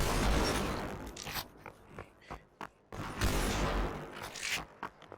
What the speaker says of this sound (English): Flying off, firing 2 bullets. Coming back and reloading, doing it again.